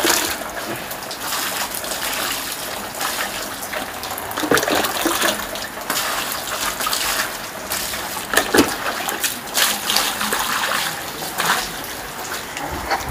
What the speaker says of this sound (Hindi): अभी हाथ पैर धो चुका हूँ, सिर्फ पैर धोए हैं